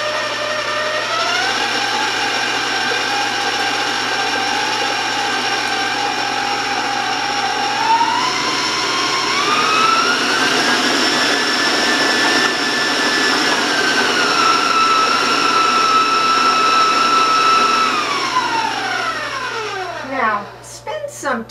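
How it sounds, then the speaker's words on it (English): Electric hand mixer beating dark chocolate cake batter for a half sheet cake at medium speed, a loud steady whine with a rising pitch midway and rattling near the end, with no talking over it. "I'm going to start blending this and mixing this at about medium speed"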